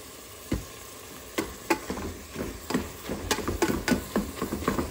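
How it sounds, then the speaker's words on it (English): Ground meat browning in a pan for chili, a close sizzle broken by sharp scrapes and clicks as a utensil mashes and crumbles it, with the stirring growing busier toward the end. "So you just mash it and crumble up everything and let it brown."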